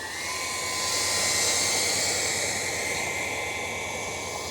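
A Freewing Motion RC F16 V2 jet model on 8S power taxis with a steady, loud, hissing high-pitched ducted-fan whine.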